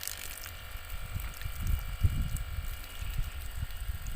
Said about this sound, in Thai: ก๊อกน้ำอัตโนมัติเราครับกดปุ่มนี่น้ำมาแล้วครับ